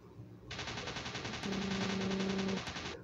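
Rapid, steady machine gun fire from an aircraft in a dogfight video game rattles on for a few seconds, with a low engine drone joining partway through.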